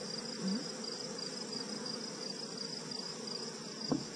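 Bee buzzing near honeycomb outdoors, a steady insect hum with faint chirping texture throughout, briefly rising as it passes close, no talking.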